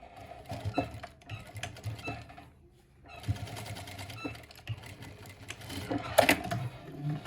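A sewing machine stitches fabric ribbons together for a pot holder in fast mechanical bursts, pausing briefly before starting again. It sounds close and fairly quiet, with faint background sounds.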